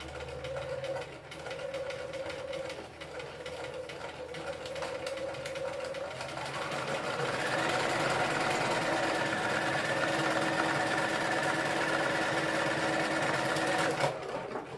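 A sewing machine stitches the lining of a pencil case to its outer fabric, humming in a steady, close, rapid mechanical rhythm that grows slightly louder partway through, then stops abruptly near the end.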